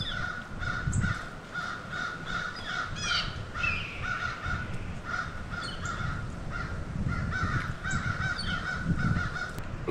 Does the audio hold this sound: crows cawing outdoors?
yes